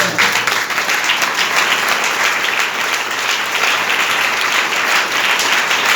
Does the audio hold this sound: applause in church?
yes